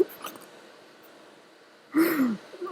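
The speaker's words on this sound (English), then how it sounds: "These hiccups won't go away." A single sharp hiccup near the end follows a stretch of quiet room tone, close and distinct, with a faint breathy sound near the start.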